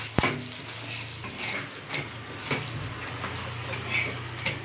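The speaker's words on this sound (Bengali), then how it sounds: "এবার ঘি দিয়ে সেঁকে নেব।" A bajra roti toasts in ghee on a pan with a soft, steady sizzle and a few faint scrapes of turning, close by and without talk.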